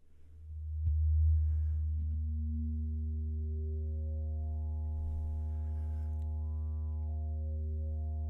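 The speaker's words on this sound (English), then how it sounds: "And that's our LFO." A steady, pure sine tone from a Mother-32 synthesizer LFO hums low and sustained, with a faint upper harmonic that wavers and bends slowly, no voices present.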